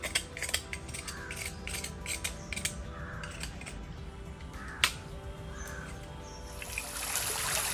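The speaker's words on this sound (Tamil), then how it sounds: "தோட்டத்தில் குருவி எல்லாம் சவுண்ட் போடுறது சூப்பராக இருக்குது." Sparrows call in a garden, their short chirps and caws scattered near and far over a faint, constant background hiss that swells near the end.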